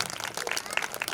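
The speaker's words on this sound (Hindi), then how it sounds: "ताली बजाइए उस बहन के" Audience applause for a sister at a Christian worship ministry prayer gathering: a brief, steady burst of many hands clapping at moderate volume.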